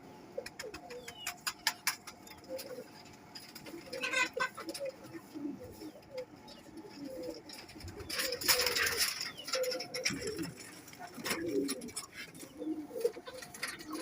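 Golden Kamagar fancy pigeons coo in low, soft, repeated bursts at close range, with scattered sharp clicks and rustles mixed in and no talk over them.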